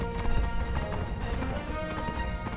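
Galloping horse hooves from the video game Black Desert Online, a steady rapid clip-clop rhythm, close and even throughout.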